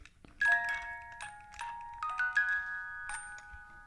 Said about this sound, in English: That's a music box, isn't it?